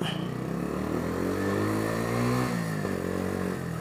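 A 125cc fuel-injected motorcycle rides and accelerates, its engine note rising steadily in pitch through the gears, loud and close with constant road and wind rumble.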